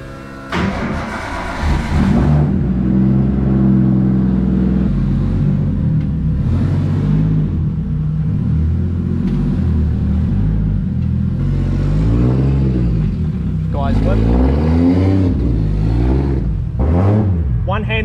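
Nissan S14 Silvia with a tuned RB25DET engine running nearby, a loud, deep idle rumble with several rising revs and throttle blips, and a voice heard briefly over it.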